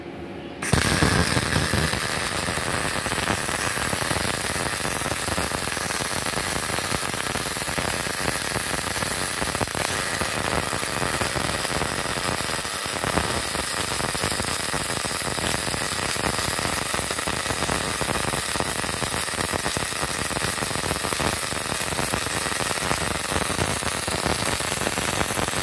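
A three-phase MIG MAG 250NF GKR CO2 MIG welder runs with a loud, steady hissing buzz that starts abruptly and holds unchanged for about 25 seconds.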